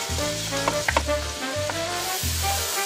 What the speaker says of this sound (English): in go our onions and in go our garlic. And let that sizzle away.